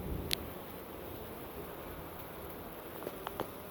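Steady, low buzzing of honey bees fills the background, droning nearby at their hive, with a few faint clicks and rustles on top.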